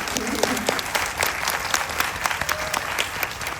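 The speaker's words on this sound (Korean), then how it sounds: "두 분이 부끄러우실 테니까 박수 한 번만 보내드릴까요?" Cinema audience at a film screening Q&A with two actors, clapping in a steady burst across a large theater hall, fairly close and even throughout.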